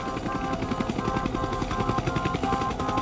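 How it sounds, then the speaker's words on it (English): A large medical-transport helicopter thuds with fast, even rotor chop and a steady high whine, holding at moderate distance for the whole stretch without voices. "They have a helicopter, and it's big enough."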